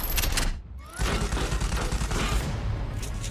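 Rapid gunfire from the Raw Data VR shooter game, dense bursts of shots and booms with a brief lull, then the fire resumes and continues loud and close.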